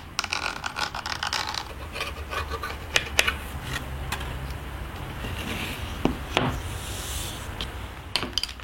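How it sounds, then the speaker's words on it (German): An agate burnisher rubs over gold leaf on a wooden picture frame, making a steady close-up rasping friction with occasional small clicks and taps, heard alone without speech. "Der Achat ist so hart und glatt, dass das Gold nicht daran hängen bleibt."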